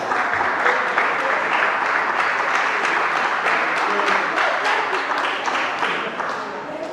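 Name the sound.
applause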